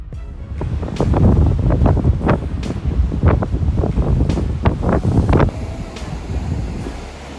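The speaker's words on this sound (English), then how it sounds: "This is the storm called Eric washing streets clean with its violent waves." Violent storm waves from the storm called Eric surge over a coastal street, driven by strong wind. The roar is loud, continuous and buffeting, with repeated crashing surges and heavy wind noise on the microphone.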